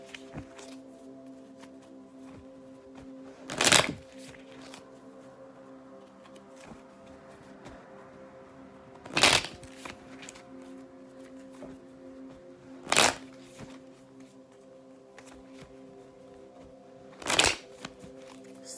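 Tarot cards are riffle-shuffled four times, each a brief crisp burst of flutter separated by long quiet gaps over a faint steady hum.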